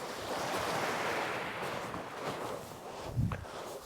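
Waves and a strong tide at Chesil Beach make a steady wash of surf mixed with wind rumble on the microphone, ending in a brief low thud, with no talking.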